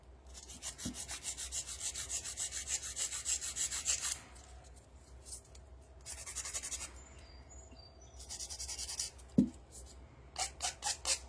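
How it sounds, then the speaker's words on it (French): A metal nail file rasps across builder gel on a nail in bursts of quick gritty back-and-forth scraping, with short pauses between strokes and a couple of soft knocks, heard up close. "Le gel, là, ça se lime très facilement."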